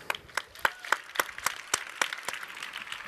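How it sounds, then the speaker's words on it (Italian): Scattered clapping from an outdoor audience in an Italian piazza, individual distinct claps in an uneven rhythm, moderately close and fairly light, with no talk over it. "Questo è un applauso per voi però."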